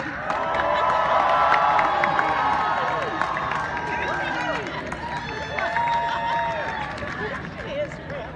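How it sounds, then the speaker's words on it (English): High school graduates on a ride cheer and scream together in a dense, continuous crowd roar, with many voices shrieking and whooping at once, loud and sustained throughout. "Put your hands up and scream, you're going on a ride."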